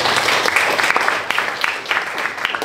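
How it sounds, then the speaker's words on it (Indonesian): A classroom group claps together on cue, a dense, steady burst of many hands that stays fairly loud throughout. "Silakan tepuk tangan"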